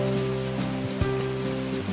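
Water streams steadily through an aqueduct in an anime scene, a continuous even rush with sustained tonal hum layered over it.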